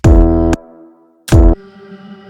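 A synth pad from the Pigments VST, melodic house style, playing two loud sustained chords separated by a pause, each one decaying into a softer lingering tail, with no voices.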